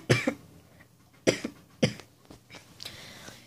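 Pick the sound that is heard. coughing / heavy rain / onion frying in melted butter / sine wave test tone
coughing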